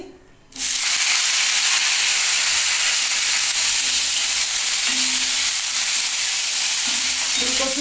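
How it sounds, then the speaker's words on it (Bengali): Cauliflower pieces dropped into hot oil in a pan with curry leaves, a sudden loud sizzle that bursts in after a quiet moment and holds as a steady bright crackling hiss. "ফুলকপিটা একটু ভেজে নিচ্ছি"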